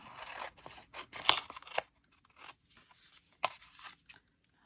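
Scissors snipping through paper, including blue jean paper, for a scrapbooking project: several close, crisp cuts in uneven bursts with short gaps, ending in quiet.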